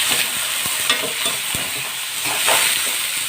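Pork sautéing in a hot pan for adobong sitaw, a continuous close hiss and crackle with a few knocks of a utensil as the meat is stirred.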